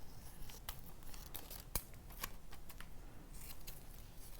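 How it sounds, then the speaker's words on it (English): Scissors trim excess paper for a Mod Podge image transfer in an art class, giving a string of crisp close snips and rustles with uneven gaps between them and nobody speaking. "There's another pair of scissors over there if you need it. I'm going to just trim off the extra."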